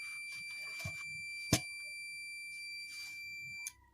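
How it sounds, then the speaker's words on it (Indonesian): A steady high-pitched multimeter continuity buzzer tone sounds continuously while testing a dead power supply, with a few brief clicks and handling noises along the way. "Nah, sampai bunyi ya, buzzernya berbunyi."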